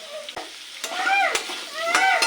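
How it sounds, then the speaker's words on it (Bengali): Potatoes fry in oil with salt and turmeric, a steady close sizzle broken by a few sharp scraping stirs of the spatula through the pan. "আলুটাকেও 2-3 মিনিটের মতো ভেজে নেব।"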